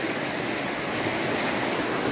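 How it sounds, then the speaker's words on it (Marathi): River water from a breached riverbank rushes downhill in a dense, steady roar of flowing water that fills the whole moment without pause. "इथे फुटलेली नदी, हे पाणी खाली वालीने खाली जात आहे"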